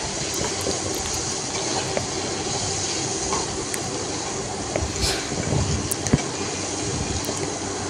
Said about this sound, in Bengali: খুব হালকা করে চিংড়ি মাছগুলোকে ভেজে নেব। দু পিঠ প্রায় 30 সেকেন্ড ধরে ভাজবো।